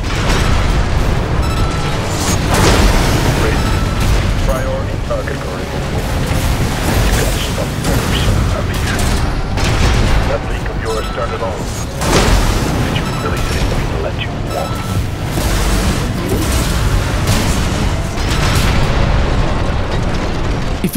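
Armored Core 6 mech combat against the Cataphract boss, with dense, continuous gunfire, booming impacts and explosions, loud and sustained with mechanical clanks throughout.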